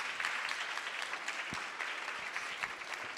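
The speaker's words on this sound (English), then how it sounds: "If you could help me give a warm round of applause for Kayla." An audience applauds Kayla Itsines at a community fitness event, a steady wash of many hands clapping at moderate volume throughout, with no voices above it.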